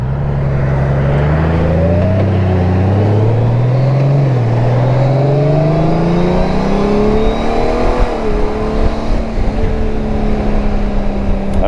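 A 2024 Honda Goldwing touring motorcycle engine revs up through rising tones on mountain hairpins, shifting and climbing again, loud and close, with a steady droning pull.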